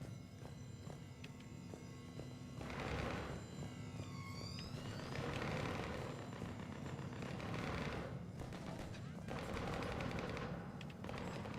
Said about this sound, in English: I hear gunfire. I don't see hostiles.